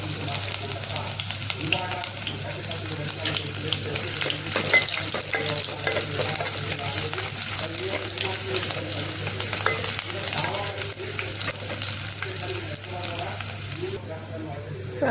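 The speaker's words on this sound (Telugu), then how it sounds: "ఉల్లిగడ్డ తాలింపుకి ఎత్తాను." Chopped onion sizzles and fries in hot oil for a tempering, a steady dense crackle with stirring scrapes running throughout, close and fairly loud.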